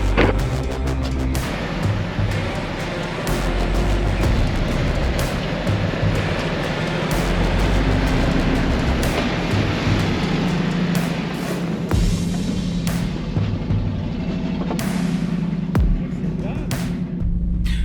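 A Hummer H2 grinds slowly through deep snow, a loud continuous engine rumble with crunching and thumping from the tyres, close and steady throughout.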